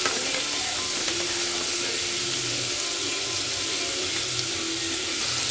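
Karahi mint chicken with crushed chilies stirred in a hot pan, giving a loud, dense, continuous sizzle and frying hiss close up, with light stirring scrapes and no talk.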